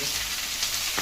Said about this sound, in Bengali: এই চিকেনটা ভাজা হচ্ছে